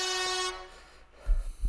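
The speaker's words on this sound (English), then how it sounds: "What would air horns?" Air horn sound effect blasts a short, bright tonal toot that cuts off abruptly, followed by low rumbling noise.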